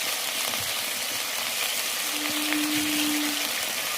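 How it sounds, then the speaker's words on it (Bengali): Ground chilli spice paste frying in a pan with salt and turmeric gives a steady, even sizzle with faint scraping, moderately close and uninterrupted, with a brief low tone midway. "এই বাটা মশলাগুলো ভালো করে ভাজতে হবে।"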